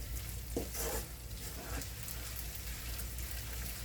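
Edible gum (gond) roasting in ghee over a low flame, giving a steady soft sizzle and crackle with a few louder scraping stirs early on, close and fairly quiet.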